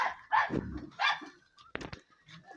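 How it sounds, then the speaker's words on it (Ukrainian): A village dog barking outdoors, a few sharp barks and yips spread over a couple of seconds, fairly close, with quiet gaps between them. "Що ти на все гавкаєш?"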